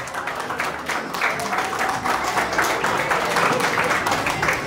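A crowd claps steadily at a school graduation ceremony, the dense applause filling the entire stretch at a fairly even loudness without any clear break.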